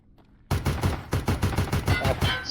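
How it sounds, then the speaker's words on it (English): Rapid automatic gunfire in the video game Escape from Tarkov, a burst of about a dozen loud, evenly spaced shots fired close up with no talking. "I shoot a few more rounds at another man, and retreat as he returns fire."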